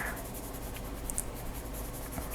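Colored pencil rubs steadily across paper in a continuous soft scratchy hiss, close up and alone, as strokes are laid down to blend color with light-to-moderate pressure.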